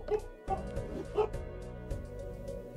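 Several dogs bark and yip in bursts, fairly close and agitated, over a low droning background with a voice partly heard under them.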